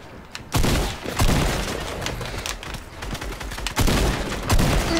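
Pistol gunfire in the video game Fortnite: several loud, sharp shots in separate bursts, with the blasts clustered near the start and again toward the end over a busy game backdrop.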